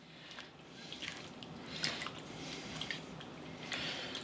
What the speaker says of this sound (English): Now what I want to do is get my hand in there and give it a squeeze.